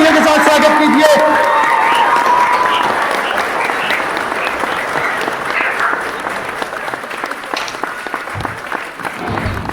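At an Indian defence academy, a crowd gives loud, sustained applause welcoming a guest named Ekta after her final selection. Voices are heard at the start before the clapping fills the room and slowly thins.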